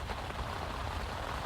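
Steady rain falls around a lake during winter carp fishing, a continuous close hiss of drops pattering on surfaces with no voices.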